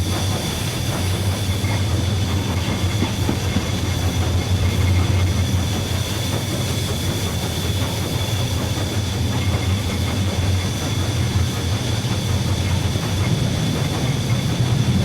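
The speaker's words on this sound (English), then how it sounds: "Opening it up like this makes the locomotive go faster." Steam locomotive working on a heritage line with the regulator opened, a loud continuous rumble and rush of running noise with steady hiss, filling the whole stretch without let-up.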